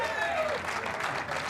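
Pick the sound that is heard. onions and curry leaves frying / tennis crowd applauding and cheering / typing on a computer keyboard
tennis crowd applauding and cheering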